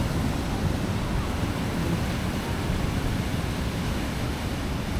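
Ocean surf breaking at a surfing spot in the north, a constant broadband roar of waves mixed with heavy wind buffeting the microphone, no distinct individual crashes.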